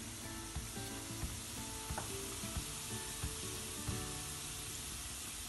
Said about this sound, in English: Now I'm going to add 1 teaspoon of cumin seeds or jeera.